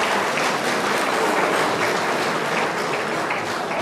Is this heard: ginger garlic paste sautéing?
no